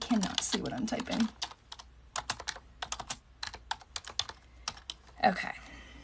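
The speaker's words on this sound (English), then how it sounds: "Cannot see what I'm typing." Fingers tap on a computer keyboard in irregular bursts of close, crisp clicks, with brief stretches of a person talking at the start and end.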